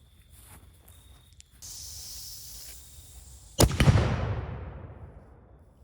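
A washing machine round, a nut and bolt combination, is fired at close range into a steel plate. One sharp, loud report rings out, then a long hiss of ringing metal fades over a few seconds after a quiet lead-in of background noise.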